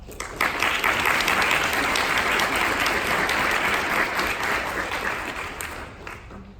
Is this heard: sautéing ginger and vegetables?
no